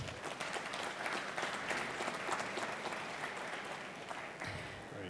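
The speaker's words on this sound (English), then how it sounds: "warm applause for Mary-Margaret" Sustained audience applause at a game-industry career talk, a dense steady wash of many hands clapping from the crowd that holds for several seconds and thins slightly near the end.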